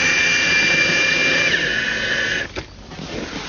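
A power drill drives fasteners into pontoon boat furniture, a loud steady high whine lasting a couple of seconds before cutting off, leaving faint background noise.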